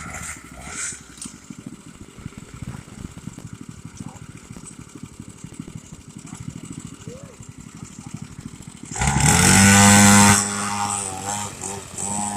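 A dirt bike engine rises from a steady background drone into a loud, close roar around the nine-second mark, holding strong as the motorcycle passes near before easing slightly.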